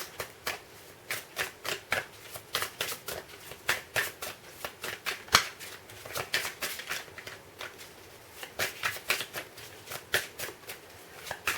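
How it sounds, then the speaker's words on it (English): A deck of cards being shuffled and cut, a long run of quick, crisp riffling flicks and slaps close by at a brisk, uneven rhythm, with no talk. "I have to cut the deck."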